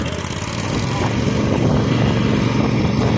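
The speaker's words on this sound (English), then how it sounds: "So the zero turn is started." A Husqvarna zero turn lawn mower engine runs close by, a loud steady drone that rises slightly at the start and then holds constant, with no talking over it.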